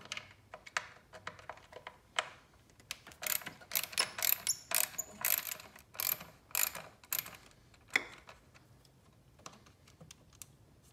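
A ratchet works a screw loose from the intake plenum of a Porsche 911, a quiet series of quick clicking bursts in uneven runs that grow busier in the middle and then taper off, with no talk.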